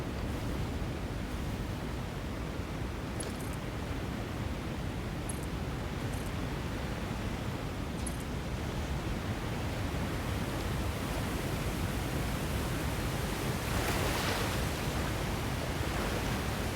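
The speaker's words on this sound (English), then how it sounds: "I think it's just behind this waterfall." A waterfall rushes in the video game Satisfactory, a steady, dense wash of broadband noise that holds at an even loudness throughout, with no talk over it.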